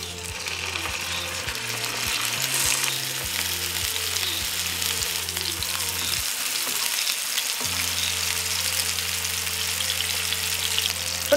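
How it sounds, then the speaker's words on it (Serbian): Meat patties (pljeskavice) fry in hot oil in a pan, a loud continuous sizzle and crackle with a rhythmic low mechanical ticking underneath that pauses briefly midway, no voices. "Pržit ću ih 2 do 3 minuta sa jedne i sa druge strane"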